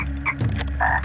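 Cartoon frog croaking in an animated show, two short nasal croaks close and clear, separated by a brief pause.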